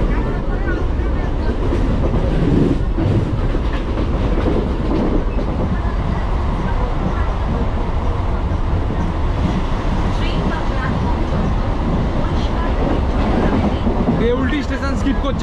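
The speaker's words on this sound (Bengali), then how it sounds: "স্কিপ করছে আমাদের ট্রেন এখন।" A local train from Howrah to Haldia runs at speed with a steady rumbling roar and rhythmic clickety-clack of wheels over rail joints, loud and continuous, with a voice briefly audible at times.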